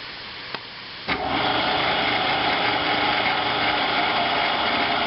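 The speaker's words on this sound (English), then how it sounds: "let me go ahead and get it cranked up, and we'll start cutting some brass." A machine tool spinning up to speed before cutting brass: a faint click, then a sharp start at about one second into a steady, loud, high-pitched motor whine that holds to the end, close by with no talking.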